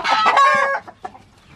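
Chickens clucking close by, a loud drawn-out squawking call followed by a few shorter, quieter clucks.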